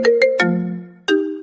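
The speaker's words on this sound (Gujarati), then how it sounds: "ફોન આવ્યો ફોન ભલે આવ્યો" A mobile phone rings for an incoming call, a short loud electronic melody of bright tonal notes in quick bursts with a sustained tone between them, close and clear with no talking.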